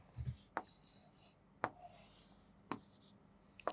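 A pen or marker sketches a diagram on a board during a math lesson, making sharp isolated taps and short scratchy strokes spaced about a second apart, faint and close.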